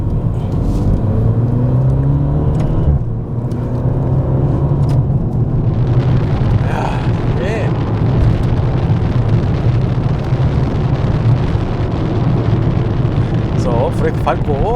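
Deep, loud exhaust rumble of a Maserati Ghibli Hybrid GranSport in sport mode with exhaust flaps open, holding a low drone and then rising as the engine revs and accelerates, close and continuous.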